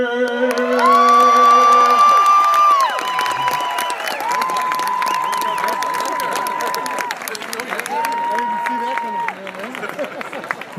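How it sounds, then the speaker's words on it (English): A crowd at a youth baseball league opening ceremony cheers and whistles, with high shouts and sustained whoops rising over a continuous bed of applause. "Round of applause for Josh."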